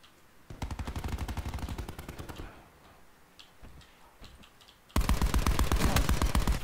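Rapid automatic fire from the TITAN gun in Call of Duty Black Ops 4, a long burst, a quieter gap with scattered shots, then another loud sustained burst.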